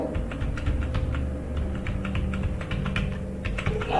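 Rapid typing on a computer keyboard while entering a numeric ID into an online form: a close, steady patter of individual key clicks with no voices.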